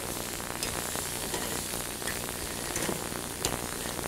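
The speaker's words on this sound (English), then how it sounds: "We'll flip the swordfish over." Marinated swordfish steaks sizzling on a grill just after flipping, a loud continuous crackling hiss with a few sharper pops, close and steady without speech.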